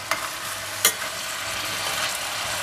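Ratatouille vegetables fry in a pan with a steady, close sizzle and a couple of sharp stirring knocks, with no voices.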